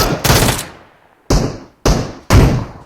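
A bot fires a gun in PUBG's ice festival mode: four loud, close, sharp gunshot bursts, the first longer with a decaying tail, separated by short silences.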